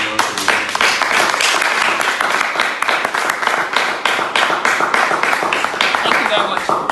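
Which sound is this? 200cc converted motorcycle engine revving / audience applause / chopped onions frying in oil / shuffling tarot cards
audience applause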